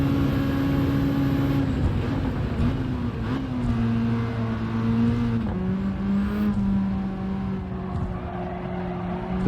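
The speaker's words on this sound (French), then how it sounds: "Ça donne l'impression que le moteur il peine" A car engine in Gran Turismo 7 labours at low revs in too high a gear, a strained steady drone whose pitch climbs slowly, drops at a shift and climbs again, loud and continuous with no talk.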